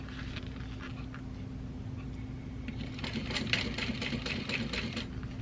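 Sewing machine top stitching around a handbag, quiet at first, then a close, rapid, steady mechanical stitching patter in the second half.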